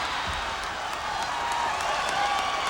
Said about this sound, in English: Crowd loved it.